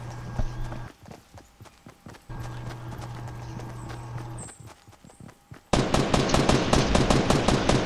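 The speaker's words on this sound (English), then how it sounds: "there's a guy right here shooting at y'all" Gunfire from an enemy in Fortnite, a rapid burst of loud shots near the end after scattered footsteps and clattering movement sounds.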